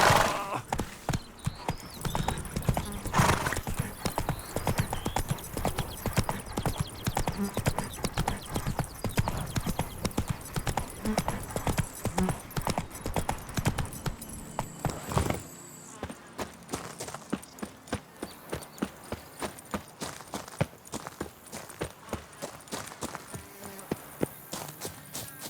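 Roach, a horse in the video game The Witcher 3, with hooves clip-clopping in a steady trotting rhythm that gives way to slower, sharper individual steps partway through, close and clear over a faint background.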